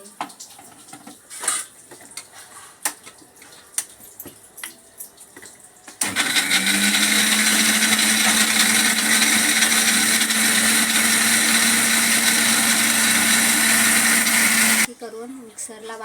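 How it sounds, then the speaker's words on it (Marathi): A kitchen mixer grinder blends a paneer and peas gravy, a loud steady whir that starts abruptly and runs for about nine seconds, then cuts off, after quieter clinks and handling sounds. "नंतर आपण मिक्सरला लावून घेऊया"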